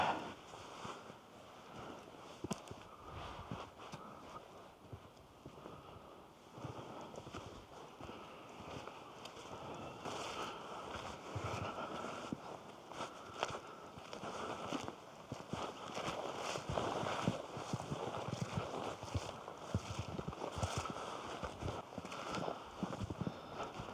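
Steady wind blowing around a winter campsite in Västra Götaland, Sweden, a broad continuous rush that swells and gusts throughout, with faint scattered movement or footstep-like noises and no talk.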